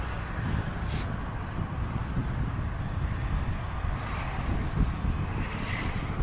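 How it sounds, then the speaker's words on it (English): A Qatar Cargo Boeing 777 lands on runway 36 left at DFW Airport in Dallas, a distant, steady engine rumble mixed with wind noise at the microphone. "There's a 777 Qatar Cargo coming in from Mexico City."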